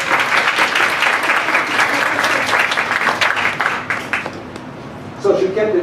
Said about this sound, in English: Give Stacey a round of applause.